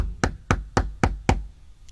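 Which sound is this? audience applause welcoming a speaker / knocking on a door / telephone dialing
knocking on a door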